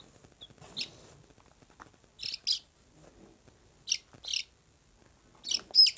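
Day-old Aseel chicks give high, thin peeping chirps in short separate bursts, several calls spaced across the moment, close by against a quiet background.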